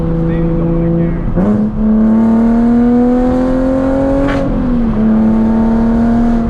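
Nissan 370Z engine with a Tomei exhaust revving loudly from inside the car, a strong tone climbing steadily through the gears with brief dips at shifts, under faint speech.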